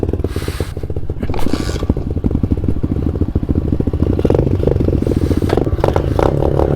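A very small pit bike is ridden hard nearby, its engine buzzing loudly and steadily with rattling and scraping from rough ground mixed in throughout.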